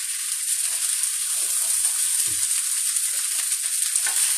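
Shrimp fried rice being stir-fried in a pan, a steady broadband sizzle with soft scraping stirs running throughout, close and even, no voices.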